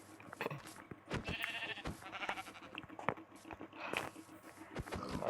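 Sheep bleating in a survival video game, several bleats over a busy mix of game sounds and footsteps, moderately loud with no talk.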